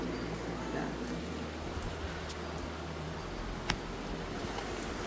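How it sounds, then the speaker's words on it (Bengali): Steady rain from Cyclone Remal falls outside, a soft continuous wash of drops heard from indoors with a low rumble underneath and one brief sharp knock near the end. "এই দেখো পুরো একদম মেঘ করে বৃষ্টি হয়েই যাচ্ছে টানা"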